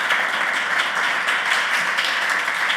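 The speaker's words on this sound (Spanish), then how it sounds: "terminamos con un aplauso para Pablo, que se lo merece" A radio studio audience applauds guest Pablo Salgado at the close of a music industry show. The clapping is loud, dense and sustained, with no voices over it.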